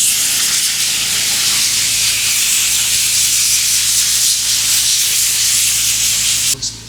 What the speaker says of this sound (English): just use the compressor to get the hairs off of his scalp,